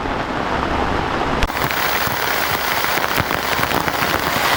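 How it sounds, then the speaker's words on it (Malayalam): Heavy monsoon rain in a forest with wild elephants pours down in a dense, unbroken hiss, drumming hard on surfaces nearby with occasional louder spatters. "ഭയങ്കര മഴ കേട്ടോ മഴ കൂടിക്കൂടി വരുന്നതല്ലാതെ കുറയുന്നില്ല"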